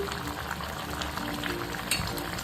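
Stuffed onion masala cooking in a covered pan, a low steady bubbling hiss with faint gurgles throughout, close and even in level, no voices.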